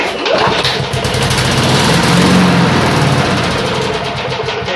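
A cheap Snapper walk-behind lawn mower with a fault that keeps it from staying running starts up, and its small engine runs at a loud, steady roar close to the microphone.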